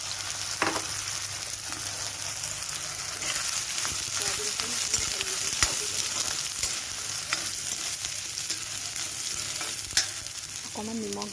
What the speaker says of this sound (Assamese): এই সয়াবিনখিনি তেলত দি দিব। অলপ ভাজি ল'ব।